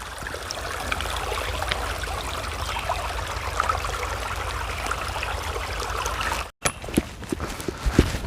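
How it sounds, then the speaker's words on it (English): A small stream along an Appalachian Trail pasture trickles and burbles steadily nearby, a constant gentle water murmur broken by a brief cut near the end. "Here's our first little water feature of the day."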